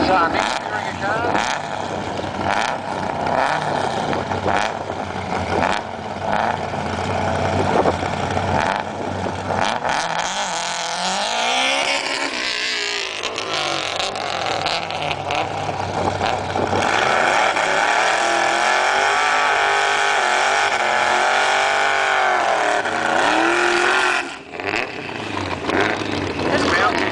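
Drag racing cars at Ruapuna in 2008 accelerating down the strip, with engines roaring and rising in pitch as they pass, loud and continuous, and a commentator talking throughout.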